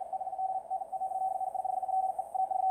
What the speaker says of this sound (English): Now this is some really crazy Morse I'm hearing.